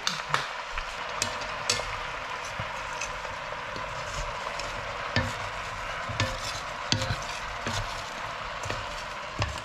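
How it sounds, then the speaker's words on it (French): Onions with a little added water are stirred in a pan, giving repeated scraping taps over a constant hiss of sizzling, close and moderately loud with no voices. "Pour casser la fibre des oignons, nous ajoutons un peu d'eau."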